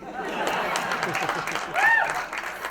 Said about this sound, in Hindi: मनोज, हाँ ताली और हंसी आने दीजिएगा, रोकिएगा नहीं